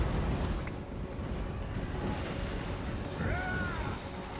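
Cannon and artillery fire in a Total War: Warhammer battle against steam tanks: a dense, continuous low rumble of booms and blasts with a brief whistling streak near the end, no talk.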